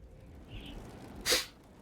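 A single short sneeze, close and fairly quiet, over a low steady background hum.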